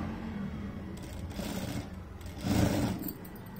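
A sewing machine stitches fabric for a baby midi dress in a continuous low, rapid hum that swells slightly in steady runs. The sound is close, with no talking.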